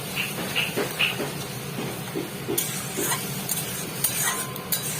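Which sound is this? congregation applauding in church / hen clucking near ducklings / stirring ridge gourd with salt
stirring ridge gourd with salt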